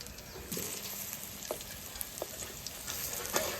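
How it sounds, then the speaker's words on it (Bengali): Fish roe fritters fry gently in hot oil, a soft steady sizzle and bubbling with a few faint clinks of a spatula, quiet and close, no talking. "এখন মাছের ডিমের বড়াগুলো ভেজে নেব।"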